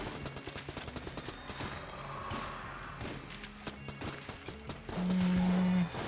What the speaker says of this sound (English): Triple tap. I land 3 sequential shots, and I get ammo back.